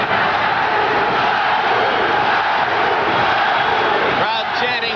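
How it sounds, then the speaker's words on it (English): Boxing arena crowd at a pro bout, a dense, steady roar of many voices filling the whole clip, loud and continuous with a rhythmic chant swelling through it and a commentator-like voice surfacing near the end. "Crowd chanting Matthew, Matthew."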